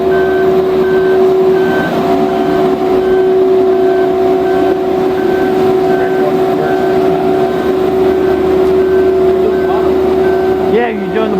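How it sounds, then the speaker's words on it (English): A boat travel lift moves while hauling out a Hatteras 53 motor yacht in a boatyard. Its loud, steady engine drone runs throughout, and a repeating warning beeper pulses at regular intervals on top of it. "You can hear the beeper. The travel lift is moving."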